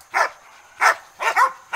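Hunting dogs barking at a caught 320-pound wild boar: four or five sharp, separate barks spaced irregularly, close and fairly loud, with quiet gaps between them.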